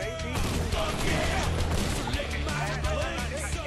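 Dense gunfire in the Fortnite video game, a continuous loud burst of overlapping shots and crashes filling the whole stretch, with voices talking faintly underneath.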